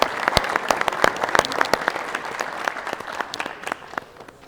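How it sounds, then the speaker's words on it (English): A small room of people gives a round of applause for a college signing athlete at a Sewanee signing event, a few close, distinct hand claps mixed with scattered clapping that tapers off. "let's all give him a round of applause"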